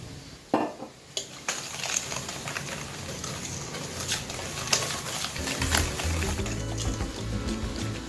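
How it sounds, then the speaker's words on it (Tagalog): A utensil stirs egg, coconut oil and sugar in a mixing bowl, making steady scraping and clinking against the bowl, close and fairly quiet, with a few sharper knocks early on. "Halu-haluin lang po natin."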